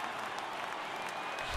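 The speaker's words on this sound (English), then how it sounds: "The crowd is ready to erupt as their guys get set to take the field" Stadium crowd roaring and applauding in the MLB The Show 18 baseball video game, a dense, steady wall of cheering throughout, with no talk over it.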